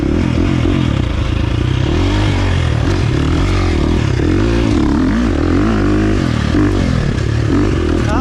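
A KTM 350 XC-F dirt bike at high throttle through deep sand, its loud, close engine roaring steadily throughout with rising and falling revs and constant low rumble.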